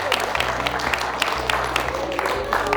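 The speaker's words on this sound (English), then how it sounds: "Let's give Mr. Madison a round of applause." An audience gives a short round of applause in a lecture setting, a steady spread of clapping hands under a low background hum.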